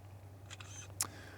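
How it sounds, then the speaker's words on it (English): An artificial camera shutter sound from a DJI Matrice 30T drone clicks twice, short crisp mechanical snaps close up over a low steady hum. "I'm going to have to look into seeing if I can disable that artificial shutter sound."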